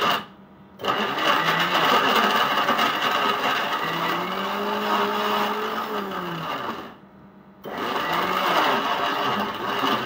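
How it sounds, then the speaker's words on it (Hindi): A mixer grinder churns jalebi batter thinned with a little water. It makes a loud, steady motor whir and grinding rush close by, cutting out briefly near the start and again near the end, with no talking. "अंदाजे से थोड़ा सा पानी ऐड करके पहले इसे अच्छे से मिक्सर में चर्न करेंगे"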